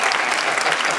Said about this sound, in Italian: Con il vostro applauso io continuo